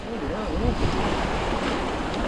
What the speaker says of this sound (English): That raging torrent down here, isn't it?